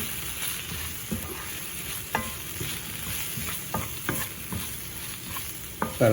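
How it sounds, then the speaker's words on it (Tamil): Potatoes and beans stirred with chili powder in a hot pan over moderate heat, a soft continuous sizzle broken by scattered spoon scrapes and taps, close and fairly quiet. "இந்த மாதிரி ஒரு முப்பது செகண்ட் இப்படி விடாமல் கிளறுவோமா"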